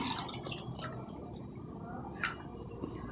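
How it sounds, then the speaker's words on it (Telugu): Water poured into a pan for cooking upma, a steady close splashing and trickling with dripping bursts and no talk. "ఎంత రవ్వ తీసుకున్నాం అలాగే వేసుకోవాలండి నీళ్ళు."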